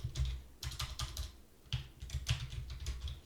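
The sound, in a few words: typing on a computer keyboard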